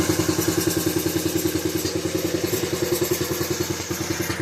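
A Coleman minibike engine runs with a rapid, even, thumping beat close by, steady throughout and with no clear shutoff.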